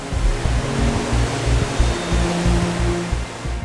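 Floodwater rushing through a flooded city street in Brattleboro, Vermont, a loud continuous roar of turbulent water with a low rumble, steady and close throughout.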